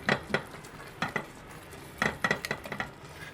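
Chicken sandwich filling with tomato frying in a pan, a soft steady sizzle broken by several clinking stirring strokes in uneven clusters, close and moderately loud, with no talk.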